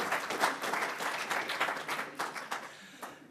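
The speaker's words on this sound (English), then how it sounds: "it's worth a round of applause" Audience applause at a summer writing festival event, a dense wash of many hands clapping steadily with small swells, fairly close and unaccompanied by talk.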